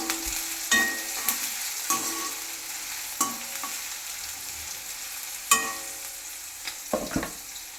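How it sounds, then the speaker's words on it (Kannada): Onions roasting in a pan for a sabbakki greens and lentil stir-fry, a soft steady sizzle broken by several sharp clanks of a spoon stirring against the pan. "ಈರುಳ್ಳಿ ರೋಸ್ಟ್ ಹಾಕ್ಬೇಕಾಗುತ್ತೆ ರೋಸ್ಟ್ ಆಗಬೇಕು"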